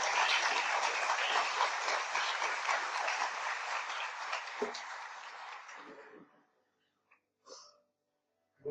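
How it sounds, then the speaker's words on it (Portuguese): Congregation applause at a church service, a dense, steady burst of clapping that holds for about six seconds, then fades out and leaves only a few faint scattered noises. "Uma salva de palmas desse rei."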